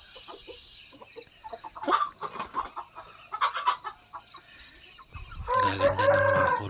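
Young Shamo Aseel gamecock stags, about four months old, cluck in a series of short calls and then one crows loudly near the end, close and clear.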